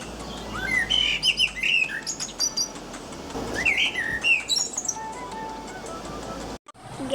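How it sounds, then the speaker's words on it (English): Blackbird calling: a series of sharp squawks and chirping notes, loud and close, with a brief break near the end. "Blackbird."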